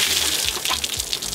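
A water-filled balloon bursts overhead after touching an orange peel, releasing a short rushing gush and splash of water that runs through the whole moment without pause.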